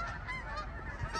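Migrating geese honk in autumn as an organized flock passes overhead, a cluster of nasal calls overlapping in quick succession at moderate distance.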